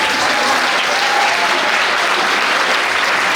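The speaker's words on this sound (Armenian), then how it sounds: "Եվս մեկական բարձր ծափար են։" An audience claps loudly and steadily at a high school last-bell ceremony, a dense, continuous wash of applause with no break.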